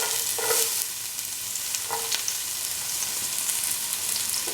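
Shallots with mace, cinnamon and cardamom fry in ghee for ghee rice, giving a steady close sizzle with a few light stirring clinks.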